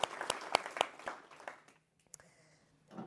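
An audience claps after closing remarks at an anniversary evening for an environmental psychology degree programme. A few sharp, sparse claps ring out and taper off into near silence, with a faint voice at the end.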